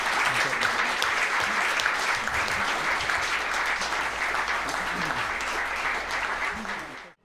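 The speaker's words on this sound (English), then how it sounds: "I think he deserves a round of applause" Audience giving a round of applause to a first-time speaker at a talk, dense steady clapping that fades out quickly at the close.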